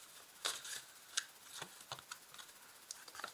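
Tarot cards being shuffled and a card drawn during a reading, soft close flicks and slaps of card stock in scattered bursts against a quiet background.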